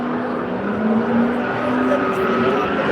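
A Mazda MX-5 race car drives past on the Silverstone circuit during a Japanese car event. Its engine note swells and rises in pitch as it goes by, set against a busy trackside background.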